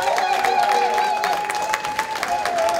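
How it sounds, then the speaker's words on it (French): A New York New Year's greeting audience applauds and cheers steadily throughout, a dense wash of clapping with crowd noise and a sustained tone running underneath. "Est-ce que vous pouvez plus applaudir?"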